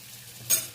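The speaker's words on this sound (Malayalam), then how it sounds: "നമ്മൾ നല്ലോണം ഇളക്കി അത് വറുക്കും" Wheat flour is stirred and roasted in a hot pan, with one short scraping sizzle close by in otherwise quiet surroundings.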